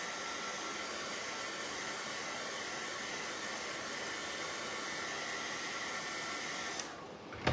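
A blow dryer runs in a steady, even whoosh to dry freshly painted wooden craft pieces, then cuts off near the end with a small clatter and no talking.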